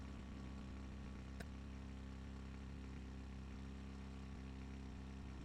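A video-game aircraft engine idles before take-off, a steady low drone with even harmonic layers holding at constant level throughout, apart from one brief sharp click.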